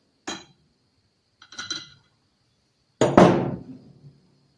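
A steel bolt, its threads cut off and end beveled, worked down into a hole in a Robin 2PG golf cart engine: two short metallic clinks followed by a louder clanking drop that rings out briefly, close and otherwise quiet.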